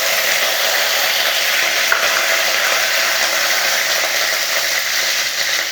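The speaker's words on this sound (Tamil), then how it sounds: "இப்போ கடுகு போட்டுக்கலாம் கருவேப்பிலை போட்டுக்கலாம்" Mustard seeds and curry leaves splutter and crackle steadily in hot oil, a loud, continuous dense sizzle with no pauses and no speech, while capsicum stir-fry is being made.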